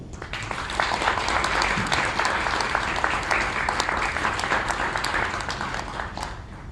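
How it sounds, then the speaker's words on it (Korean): Audience applause welcoming a professor on stage: steady, dense clapping from a large crowd, sustained throughout at even loudness, with no talk over it. "김우신 교수님을 여러분 큰 박수로 맞이해 주십시오"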